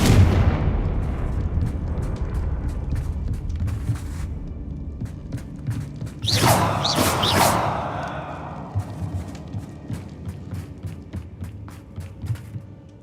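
Fiery Confringo spell blasts in Hogwarts Legacy: a sharp, loud burst of explosions mid-way over a steady game ambience, followed by scattered lighter impacts and whooshes.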